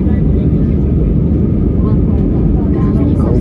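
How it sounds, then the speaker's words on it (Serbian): An Air Serbia airliner takes off from Nikola Tesla Airport in Belgrade, its engines a loud, steady low roar heard from the cabin, with no break and no other sound rising above it. "aviona Air Srbije sa aerodroma Nikola Tesla Beograd."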